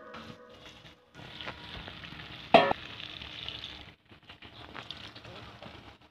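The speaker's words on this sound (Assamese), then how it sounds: "এতিয়া ইয়াতে পানী দি দিব অলপমান।" Water poured into a hot frying pan of boroli fish curry gives a steady sizzle and bubbling, with a sharp louder burst near the middle, fairly close, alone before quietening toward the end.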